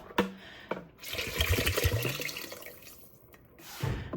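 About two cups of water splash and pour in uneven bursts, gurgling into a pot of fideo soup with ground beef and potato nearby, with short pauses between pours.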